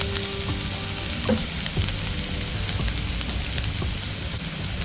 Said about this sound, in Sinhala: තෙල් ටික රත් වෙනකොට පොඩිවට කපාගත්ත සුදු ලුණු ටික දාලා ඒක හොඳට